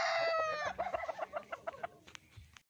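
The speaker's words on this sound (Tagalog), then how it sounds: "binigyan po ako ng dalawang manok ng aking kaibigan, ni Pare Joseph." A rooster crows briefly, then chickens cluck in a quick run of short, fading clucks close to the listener.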